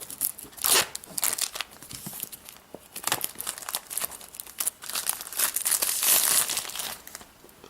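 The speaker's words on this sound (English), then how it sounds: "let's just get this plastic off" Plastic wrap is peeled and torn off an iPhone 4S box, giving close, crisp crinkling and crackling in irregular bursts that run almost the whole time, with no voices.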